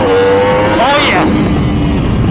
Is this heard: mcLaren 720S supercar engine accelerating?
yes